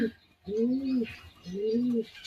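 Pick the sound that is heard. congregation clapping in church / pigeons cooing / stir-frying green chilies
pigeons cooing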